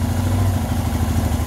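A Royal Enfield Himalayan motorcycle engine idles at a raised RPM of about 1400 once warm, a steady close-up thrumming with a mechanical clatter and no gaps.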